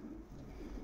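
A male pigeon coos briefly, a low, soft, close murmur lasting under a second.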